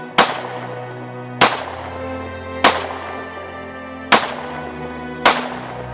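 Five single gunshots ring out at an outdoor shooting range, each a sharp, loud crack with a ringing decay, spaced about a second apart in a slow, steady rhythm, with no talking between them.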